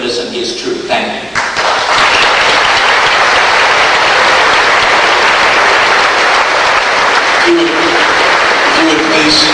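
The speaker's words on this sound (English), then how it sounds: "If you would please hold your applause" Loud, sustained applause from a debate audience after a speaker on secular humanism versus Christianity finishes, swelling quickly after a brief moment of voices, then holding a thick, even roar of clapping.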